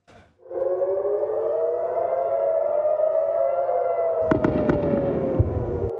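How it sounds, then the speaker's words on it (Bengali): An air raid siren in Israel wails in a long, slowly rising and falling tone at night, with sharp bangs and crackles breaking out near the end. "রাত গড়াতেই তেল আবিব ও জেরুজালেমে বেজে ওঠে সাইরেন।"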